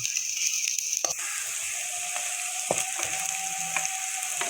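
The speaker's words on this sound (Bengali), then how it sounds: "এভাবে আমি ডালের পকোড়ি ভাজছি" Lentil pakoras crackle and sizzle in deep oil, a continuous bubbling hiss punctuated by a few sharp clicks and scrapes of a utensil.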